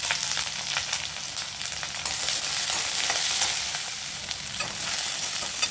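Chopped coconut and onion sizzle steadily in hot coconut oil, a dense close frying hiss broken by frequent stirring scrapes, loud and continuous with no voices.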